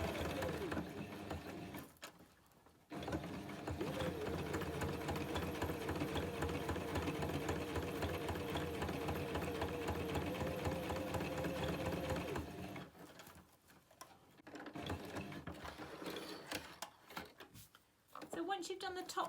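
A sewing machine stitches Velcro onto fabric in long steady whirring runs, broken by a few short pauses, with a voice talking over much of it.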